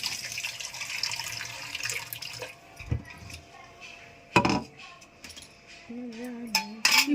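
Old rice is washed in a kitchen sink or pot, with water running and splashing steadily while utensils clink now and then; the water is near and moderately loud, and a quiet voice can be heard near the end.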